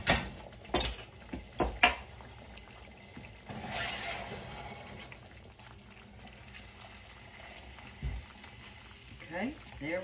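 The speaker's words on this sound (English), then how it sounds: "Stir our gravy around just a time or two and get it out." Gravy is stirred in a hot bowl, with a few sharp clinks and scrapes of a utensil against the dish at the start, then quieter handling under a person talking.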